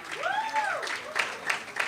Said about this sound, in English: So a round of applause for him again.